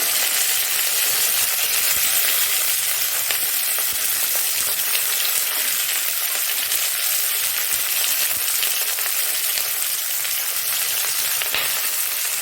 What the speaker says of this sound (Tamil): இதில் வெங்காயத்தை போட்டுக்கலாம் வெங்காயம் வரமிளகா கருகாப்பில் மூணையும் ஆட் பண்ணிக்கலாம் அது கொஞ்சோண்டு வதங்கட்டும்